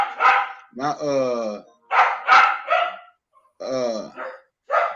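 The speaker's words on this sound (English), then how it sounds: "my dog couldn't wait till I started talking so he could start barking." A dog barks repeatedly in sharp, close bursts, alternating with someone talking nearby in a quiet room.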